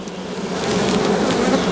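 Dense, steady buzzing of many honey bees inside an opened hive of several frames, close and continuous throughout with no voices.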